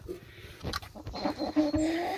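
Hens clucking inside a backyard henhouse, a few short, close calls and throaty murmurs rising and falling over about two seconds, with no talk.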